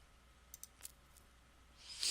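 A computer mouse gives a few faint, sharp clicks in a loose cluster, quiet and close, followed by a brief rise in background noise at the end.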